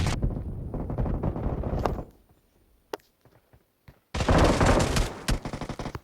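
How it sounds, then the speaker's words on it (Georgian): A pistol firing fully automatic in PUBG Mobile, a rapid burst of shots for about two seconds, then a few isolated pops, then another dense volley near the end, loud and close. "ანუ ავტომატივით ისვრის"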